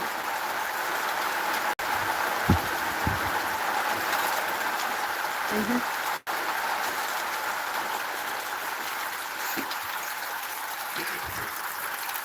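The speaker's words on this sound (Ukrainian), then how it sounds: "Дощ, дощ, дощ. Дивіться, скільки його." Steady rain hiss fills the air at an even level, with a few soft low thumps scattered through and two abrupt brief dropouts.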